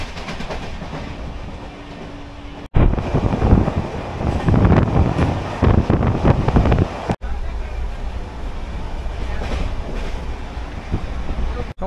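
Aboard the Shalimar–Puri weekly express, a loud, continuous running roar with rhythmic wheel clatter and gusts of wind buffeting the microphone.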